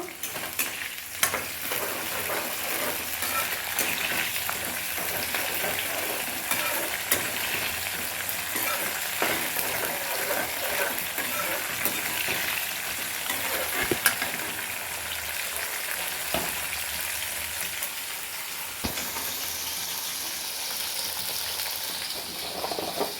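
Onions, tomatoes, turkey berries and curry leaves sauté in a hot pan for a Tirunelveli-style tamarind curry, a steady close sizzle with scraping stirs running throughout.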